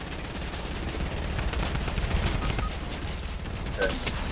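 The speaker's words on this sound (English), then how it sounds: "He's got the drum gun." Drum gun in the video game Fortnite firing in sustained bursts of rapid automatic shots, loud and close, with steady game ambience throughout.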